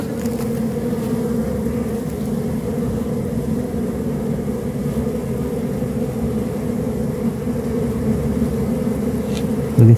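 Bees swarming around a nest inside a cave make a dense, continuous low buzz, steady and fairly loud throughout, with no voices.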